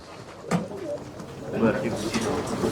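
Low, soft pigeon coos repeating close by at a bird auction, mixed with people talking over them.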